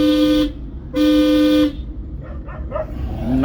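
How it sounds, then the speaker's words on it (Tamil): A car horn blares twice in long, loud, steady tones at a driving school, the second blast longer, followed by faint barking and a short third toot at the end. "நாய்க்கெல்லாம் ஹார்ன் அடிப்பேன்."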